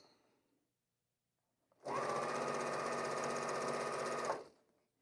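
A sewing machine runs in one loud, steady burst of about two and a half seconds while chain piecing fabric with seam tape, with quiet before and after.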